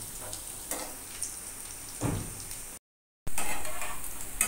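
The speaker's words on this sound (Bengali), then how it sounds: "এবার গ্যাসের ফ্লেমটাকে ফুল করে দিয়ে আরও অল্প সময় একটুখানি ভেজে নিতে হবে" Masoor dal fritters with chopped onion and green chilli crackle and sizzle steadily in oil over a full gas flame, a close, continuous frying hiss with brief swells, broken by a short silent gap before resuming louder.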